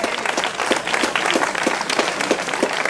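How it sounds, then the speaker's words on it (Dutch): Audience applause at a cycling podium ceremony after a closing time trial, many hands clapping in a brisk, continuous patter with some crowd noise, fairly close and lively. "Nu applaus, Rafael Mouton."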